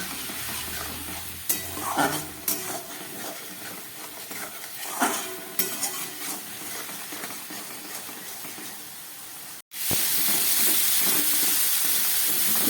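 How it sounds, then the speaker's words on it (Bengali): Spiced masala paste frying in a pan with a splash of water while being stirred for a vegetarian potol kofta curry: steady close sizzle and hiss with scraping stir strokes, then a sharp burst of louder steam after a brief gap near the end. "সামান্য একটু জল দিয়ে দিচ্ছি, দিয়ে খুব ভালো করে মশলাটাকে আমি এবারে কষিয়ে নেব।"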